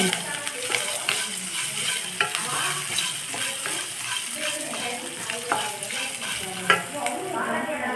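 Cashews and finely chopped green chilies frying in a hot pan for sago curd rice, a continuous busy sizzle with scattered stirring clicks and scrapes, fairly faint and without speech.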